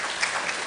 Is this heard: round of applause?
yes